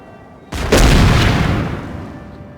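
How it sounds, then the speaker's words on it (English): A single booming artillery shot in the Napoleon: Total War game, one sharp, loud blast followed by a rumbling tail that fades over about two seconds. "Let's try firing on this huge group of men here."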